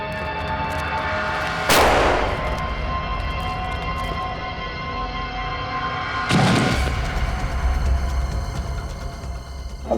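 Two heavy explosions blow something up, each a loud booming blast with a long rumbling tail, spaced several seconds apart over a constant background din, with no voices.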